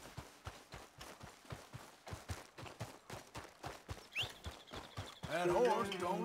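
A horse trots in Red Dead Redemption II, its hooves clip-clopping in a steady, even beat. Near the end, other game sounds and a swelling tone rise over the hoofbeats.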